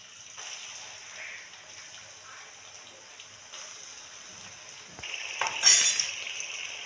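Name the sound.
frying ground masala paste for chicken masala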